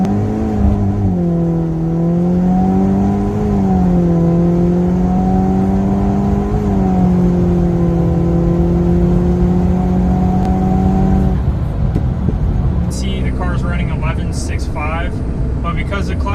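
Loud engine of a VW-Audi car with a stock motor revving and climbing in pitch under hard acceleration in a drag run, clutches slipping, then shifting into a rougher, changing roar, heard from inside the car.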